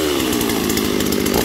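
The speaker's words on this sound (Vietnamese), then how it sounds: "Mình khởi động tiếng máy cho anh em nghe." A Shingu SV3800 38cc chainsaw with a 40 cm bar idles and runs loud and steady at close range, its engine note rising slightly, with no voices.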